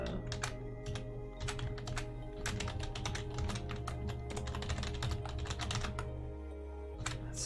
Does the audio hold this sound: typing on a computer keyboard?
yes